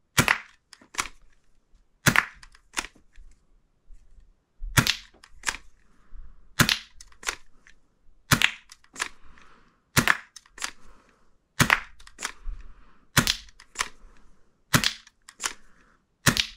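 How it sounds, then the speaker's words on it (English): A Nerf Gel Fire Twist Shot toy blaster fires single shots, sharp loud cracks spaced about one to two seconds apart with quiet gaps between, no voices. "let's get right into the accuracy test and see how this thing does. We're gonna start off with single shot."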